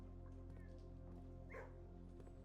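A dog in the video game Blue Prince gives a brief, faint yip or bark set against a steady low background hum, with no speech.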